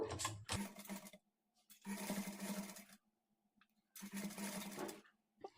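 A sewing machine fitted with a normal presser foot runs three short, even bursts of stitching thread piping, with near-silent pauses between them.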